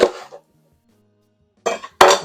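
A kitchen knife slicing an onion into chunks on a cutting board, giving a short pair of crisp chopping knocks, a pause, then two louder close cuts.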